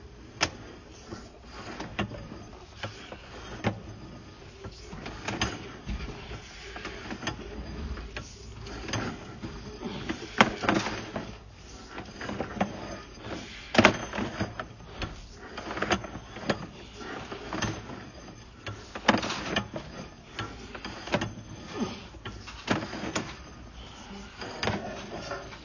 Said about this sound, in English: we're running the camera from the 2-inch clean out on the side of the house